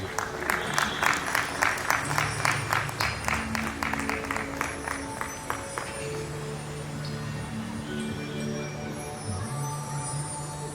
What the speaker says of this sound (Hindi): स्नेहा के लिए तालियां।